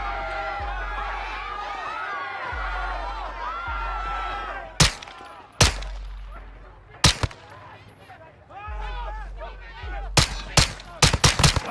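Sharp, loud gunshots from Call of Duty: Modern Warfare 2 crack out in irregular single shots and quick bursts, with French-speaking voices talking before and between them.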